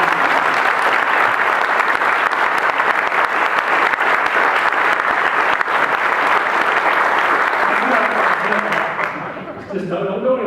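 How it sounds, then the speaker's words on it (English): At a community prayer breakfast, a large room of people gives a long, dense round of applause for the event sponsors, loud and sustained before tapering off as a voice begins speaking. "just give them a round of applause for doing it"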